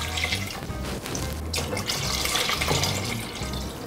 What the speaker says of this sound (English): Now we fill our pot with water.